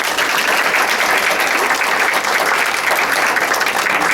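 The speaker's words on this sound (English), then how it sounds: "Let's give him a round of applause" An audience at a live event applauds with steady, dense clapping that stays loud and even for several seconds, with no voices over it.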